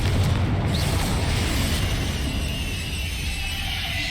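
Confringo blasting spell exploding in the Hogwarts Legacy video game, a dense sustained rumbling boom with heavy low-end roar that fills the whole stretch at high loudness, no voices over it.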